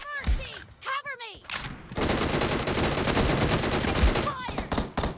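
Rapid, sustained automatic gunfire in a shooter video game roars for several seconds, flanked by brief bursts of speech and radio-style voice lines before and after.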